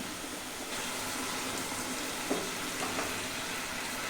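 Boiling water is ladled into a drumstick theeyal curry simmering in a pan, giving a steady, close wash of pouring and bubbling sizzle with a few soft clinks.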